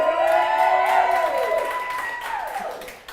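A small, socially distanced crowd at a gala in a St. Louis artist lounge cheers and whoops briefly. Shouting voices are mixed with light clapping and fade toward the end.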